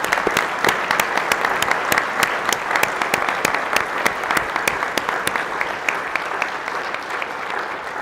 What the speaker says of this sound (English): Please join us for a round of applause celebrating this momentous occasion.